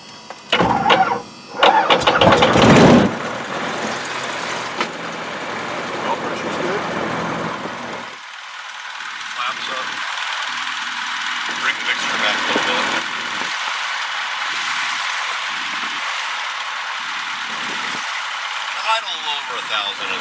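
Light aircraft propeller engine cranking and catching with a loud burst, then settling into a steady idle that carries on under a pilot's talk, close and prominent throughout.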